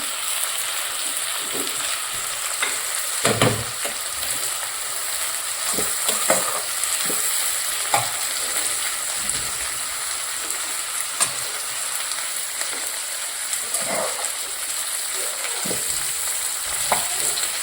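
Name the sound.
sautéing kadai paneer masala with tomatoes in a pan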